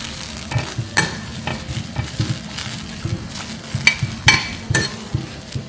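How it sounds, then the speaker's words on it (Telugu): Green chillies frying in a pan give a steady close sizzle, broken by intermittent scraping and stirring clatter from a utensil, with no talking. "ఫస్ట్ పచ్చిమిరపకాయలు ఫ్రై చేసుకోవాలి"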